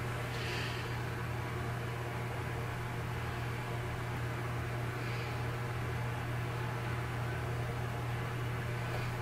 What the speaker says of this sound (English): Now we're gonna microwave for 1 minute 15 and then spread out.